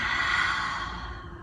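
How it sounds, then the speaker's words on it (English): A single big open-mouth exhale during a gentle chair yoga session, a breathy rush of air that starts strong and slowly fades over about a second. "Exhale through the mouth."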